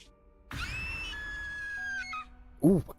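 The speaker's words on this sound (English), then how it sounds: "That scream was gut-wrenching." A scream sounds in the game Zenless Zone Zero: a high, sustained wavering cry lasts over a second amid game sounds. It is followed by a brief louder vocal outburst near the end.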